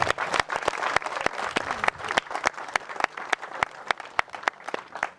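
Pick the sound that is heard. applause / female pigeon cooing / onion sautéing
applause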